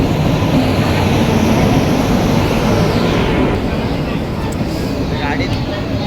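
An express train stands at a station during boarding, with a loud, continuous rumble and hiss that eases slightly partway through, amid surrounding station noise.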